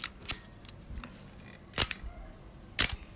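Praktica BCX electronic film camera shutter firing in bulb mode: a few sharp, close mechanical clicks spaced about a second or more apart, each a brief snap, against a quiet background with no talk.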